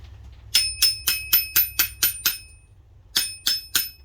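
A hammer striking metal on a 2005 Acura TL transmission during a teardown: eight sharp ringing clanks in quick even succession, a short pause, then three more, close and loud with a metallic ring.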